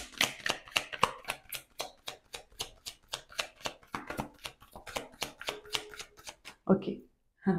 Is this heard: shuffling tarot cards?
yes